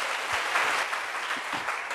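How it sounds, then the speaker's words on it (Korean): A church congregation applauds during a Korean sermon. The clapping is sustained and evenly dense, with a mild crowd wash, and lasts about two seconds. "다시 한번 박수로 주님께 영광 돌립니다"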